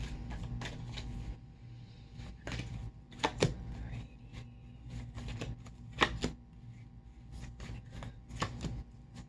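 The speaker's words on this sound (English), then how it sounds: "Let me pull a few tarot cards." A deck of tarot cards is shuffled and cards are pulled from it, with soft riffling, sharp clicks and brushing taps spread irregularly over a quiet, low background hum.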